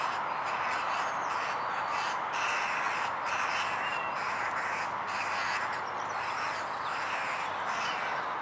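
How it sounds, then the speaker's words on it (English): Crows caw around their nest in a harsh, steady chorus that runs loud and continuously, with overlapping calls and no pauses. "That was another crow muscling in on his nest."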